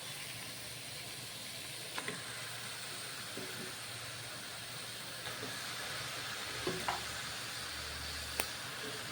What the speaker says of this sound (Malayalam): കഴുകി വൃത്തിയാക്കി വെച്ചിരിക്കുന്ന ചിക്കൻ അതിലേക്ക് ചേർത്ത് കൊടുക്കുക